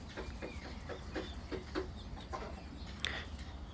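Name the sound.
chickens clucking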